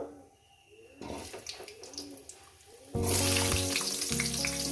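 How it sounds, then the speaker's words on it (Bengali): Dried red chillies being tempered in hot oil for a potato and katla fish posto dish, a soft crackle at first, then a loud, steady sizzle with clattering as the pan surges. "দুটো শুকনো লঙ্কা ফোড়ন দিচ্ছি একটু ফাটিয়ে দিচ্ছি"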